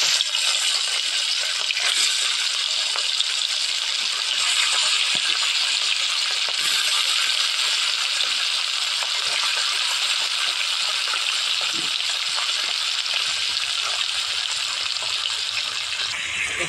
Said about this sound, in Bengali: শুটকিগুলি আমার ভাজা হয়ে গেছে